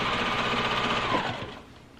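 Sewing machine straight-line quilting through a small quilt's cornerstone, a close steady whirring hum of rapid stitching that slows and winds down near the end, with no voices.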